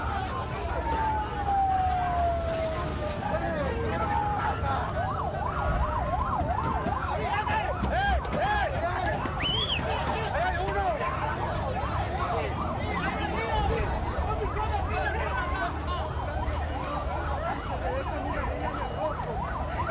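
An ambulance siren wails continuously with rising and falling tones, loud and near, over traffic rumble and occasional shouting voices.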